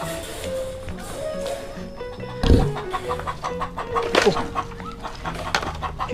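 A hen clucking nearby in a farmyard while being checked for eggs, repeated short clucks and squawks over rural background noise, with a person talking quietly in the background.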